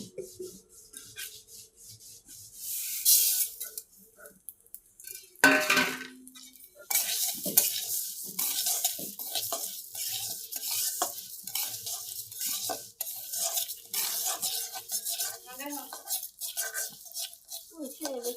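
Mung dal dry-roasting in a pan with a little oil, heard as intermittent scraping and stirring with soft sizzle, under a woman's speech and with a brief louder clatter partway through.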